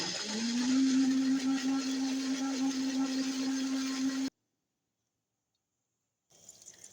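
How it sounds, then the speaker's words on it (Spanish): A blender purées chilies and sauce ingredients for Jamaican patty filling, a loud steady motor whir holding one pitch for about four seconds, then cutting off to silence before a faint noise returns. "Y luego lo licuamos todo."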